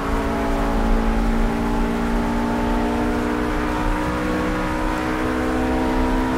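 A RUF RGT 8 race car in Project CARS on the Eifelwald track, its engine held at full power as a loud, steady sustained drone without speech.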